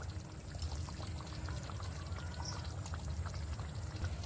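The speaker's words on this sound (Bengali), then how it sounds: "এক চামচ ঘি দিয়ে দেব এক চামচ গোলাপ জল দিয়ে দেবো" Ghee and rose water poured into chicken chaap in a pan, a steady soft liquid pour with faint bubbling running continuously throughout, close and moderately quiet.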